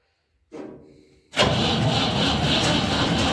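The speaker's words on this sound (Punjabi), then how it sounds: "ਇੱਕ ਇੰਜਨ ਛੋਟਾ ਜਿਹਾ ਕਲੌਸਕਰ ਦਾ 4 ਸਿਲੰਡਰ ਤਿੰਨ ਬੈਟਰੀ ਲਾਉਣੀਆਂ ਪੈ ਗਈਆਂ" A starter motor, powered by three batteries, whirs briefly, then a small Kirloskar four-cylinder engine catches and settles into a loud, steady running roar close by.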